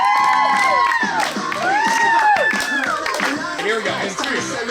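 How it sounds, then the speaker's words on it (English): A lively celebration crowd at an annual meeting cheers and whoops loudly, with overlapping shouts and rising, gliding voices filling the space in a dense, close jumble. "Everyone's cheering."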